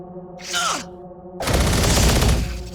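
A shredder weapon in a Doom 3–style first-person shooter lets off a loud, sustained burst of rapid fire lasting over a second. A shorter sound with a falling pitch comes just before it.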